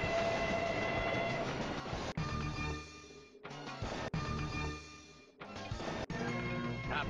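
A train rumbles and clatters in the Who Dunnit table of the Pinball Arcade video game, with a steady tone riding on top. The sound is fairly quiet and cut by short breaks into several bursts.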